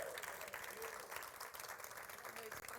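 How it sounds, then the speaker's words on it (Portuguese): A crowd applauds steadily throughout, a dense wash of clapping that stays even from start to finish, with voices faintly mixed in, welcoming a pastor. "Quero que você receba ela com uma linda salva de palmas."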